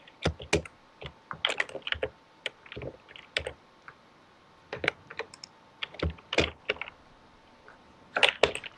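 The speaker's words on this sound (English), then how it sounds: "Got a lot of typing noise there again, Minty." Clacking computer keyboard keys rattle in quick, uneven bursts with short pauses, moderately close and alone, heard while someone plays Space Engineers.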